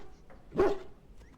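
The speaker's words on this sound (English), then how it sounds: "That is a beast of a dog." A large dog in the video game Dragon Age: Origins gives a single short bark, fairly close and moderately loud, with faint game ambience around it and no talk.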